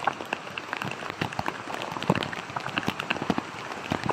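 Heavy typhoon rain pours down during flooding along EDSA near Balintawak, a dense, steady patter of drops hitting surfaces close by, crackling continuously without pause and with no talk.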